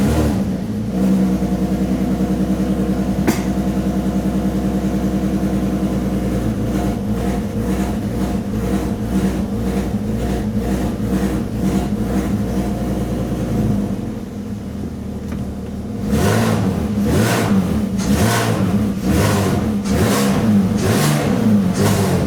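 A Peugeot 206 fitted with a VR6 engine runs and revs, with repeated throttle blips rising and falling over a steady idle, a short lull, then more close, loud revving, with no talk.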